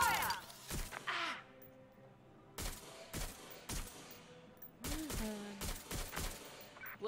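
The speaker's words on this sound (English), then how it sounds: "Providing suppressive fire." Suppressive gunfire in Watch Dogs: Legion: repeated sharp gunshot cracks in irregular bursts, fairly close and loud, mixed with tonal game sounds and effects.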